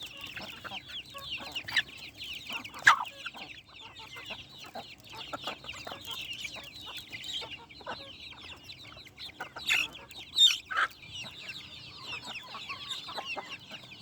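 Chickens clucking softly and steadily while they feed, with a few louder calls standing out near the middle and toward the end, all fairly close by.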